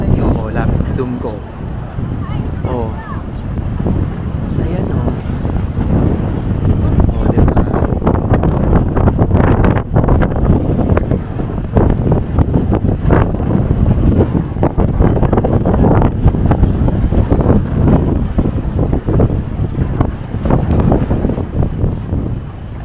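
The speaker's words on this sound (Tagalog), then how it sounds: "Ang lakas ng hangin" Strong wind from a Signal No. 8 typhoon in Hong Kong buffets the microphone in loud, rumbling gusts, with a person talking underneath and waves faintly in the background.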